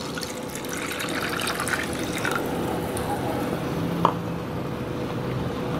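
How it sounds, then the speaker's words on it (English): Water pours steadily into a pot of ground paste for rasam, a continuous splashing trickle with a few drips, fairly close. "Now we'll add water in this."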